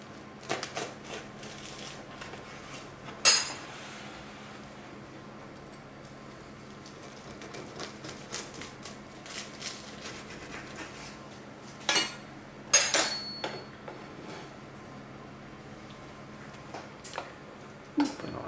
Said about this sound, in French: Je vais vous couper une petite part pour voir l'intérieur